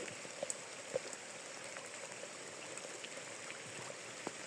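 Rain falls steadily outdoors by the water, a soft continuous patter with scattered individual drops ticking close by, heard alone without voices.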